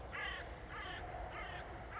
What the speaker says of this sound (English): Some birds right here.